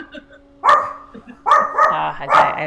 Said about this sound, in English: I have a rabid dog.